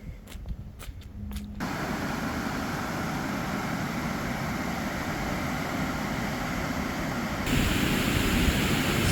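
Water pours over a spillway at Cleburne State Park in spring as a steady, loud broadband rush that swells slightly louder near the end, with a few faint ticks before it settles in.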